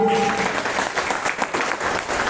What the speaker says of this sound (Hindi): एक बार सिस्टम के जन्मदाता NK सर के लिए जोरदार ताली।